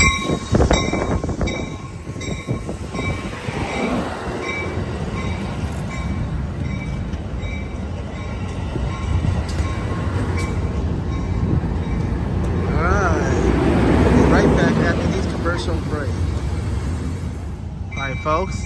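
Amtrak San Joaquin train 714, running late and led by locomotive 8303 Mount Diablo, arrives at Emeryville Station in California with a loud rumble of passing railcars, clattering wheels and brief squeals, while a person talks near the track.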